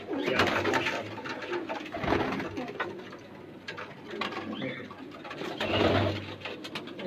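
Home-bred low flyer pigeons coo repeatedly in Hyderabad, with soft overlapping calls and light rustling and scraping close by, without speech.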